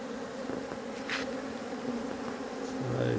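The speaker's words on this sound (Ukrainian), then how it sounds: "І з роботи йдуть, і обліт молодої бджоли" A steady, busy hum of many honey bees buzzing around, with individual bees droning past nearby over the constant swarm.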